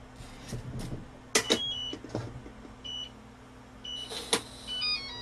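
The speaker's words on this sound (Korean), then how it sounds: "자, 그러면 이제 문 한번 닫아 볼게요" A door swings shut on a G200 no-drill digital door lock, with sharp latch clicks, a short motorized whir of the bolt and a few electronic beeps, all close and moderately quiet with no talking.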